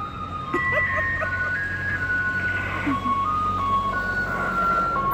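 A vehicle on a street plays the Happy Birthday melody as a loud, clear electronic jingle of sustained tones, repeating steadily over traffic and outdoor background noise.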